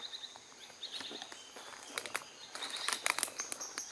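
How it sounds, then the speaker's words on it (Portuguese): Birds sing outdoors in a countryside garden, faint scattered chirps and trills repeating at mid-distance, alongside soft rustling and footsteps, with no talking. "Enquanto isso, os pássaros cantam"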